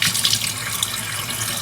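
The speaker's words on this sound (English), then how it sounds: "that water feels pretty decent" Tap water runs steadily into a sink, a loud, close splashing stream used for rinsing makeup brushes.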